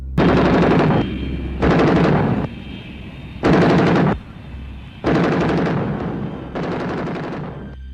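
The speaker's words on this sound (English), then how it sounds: "avoiding their machine gun fire." Machine gun fire sounds in loud, long bursts, five sustained rattling volleys separated by short gaps of lower rumble, used as a sound effect in a documentary about UFOs.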